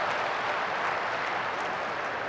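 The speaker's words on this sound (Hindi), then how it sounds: "आइए एक बार जोरदार तालियां हो जाएं" Dense applause from a large crowd at a national highway inauguration event, a continuous loud wash of clapping with no pauses over the short stretch.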